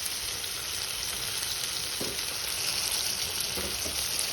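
Brinjal cooking in a pan for a dry fish brinjal curry gives off a continuous, even sizzle and bubbling, with a few faint utensil taps scattered through it.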